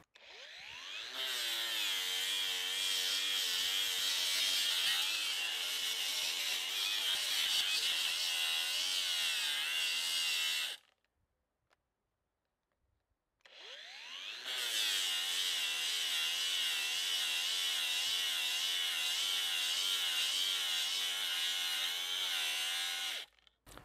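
An Einhell cordless angle grinder on an 8Ah battery whines loudly and steadily for about ten seconds, cuts out for a couple of seconds, then spins back up and runs again at full speed alone.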